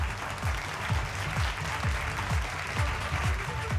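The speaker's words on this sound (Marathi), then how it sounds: "जोरदार टाळ्या वाजवून आपण त्यांचं पुन्हा एकदा अभिनंदन करूया." Loud, steady applause from a ceremony audience at Maharashtra's Anmol Ratna award event, dense clapping holding at an even level for the whole stretch with no voices over it.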